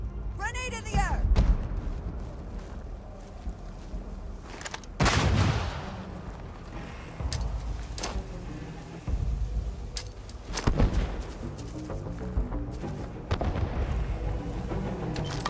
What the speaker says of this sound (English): Grenade in the air.